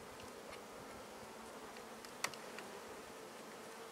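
Honeybees hum in a steady, faint drone inside an opened hive as a frame is moved, with one brief knock partway through.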